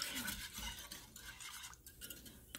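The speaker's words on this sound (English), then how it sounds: "As I keep whisking, I'm going to be looking for more seeds" A whisk stirs a yellowish, milky lemon meringue pie mixture in a bowl, giving a soft, steady scraping and clinking that runs throughout at low volume with no one speaking.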